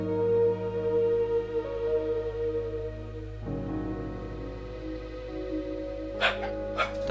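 Dogs in a home bark and yip in bursts, with a stretch of whining and a few sharp barks near the end, heard beneath a steady tonal hum of game music.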